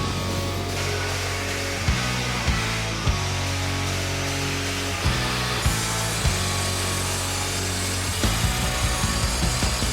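An angle grinder cuts through steel being worked for medieval armour, a steady loud whine with several sharp clicks and bursts as the disc bites and shifts, running alone through the whole stretch.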